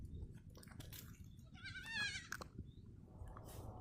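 A faint, wavering bleat from a small goat eating fallen jamun fruit rises briefly over a low rustling background, close by and alone.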